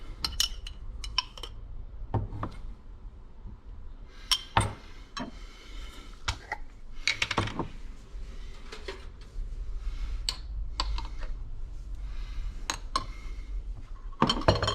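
A spoon knocks and clinks against a bowl while a yogurt and wild garlic filling with mayonnaise and mustard is stirred, irregular bursts of sharp taps with quiet gaps between them, close and fairly soft, no voices.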